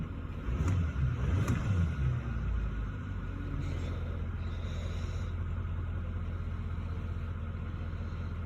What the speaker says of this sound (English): Let's see how she sounds. Gotta love your diesel.